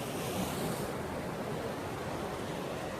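Surf rolling onto a sheltered beach beside an inlet near Meerup and Broke, a steady, dense wash of waves mixed with wind rushing over the microphone, with no voices.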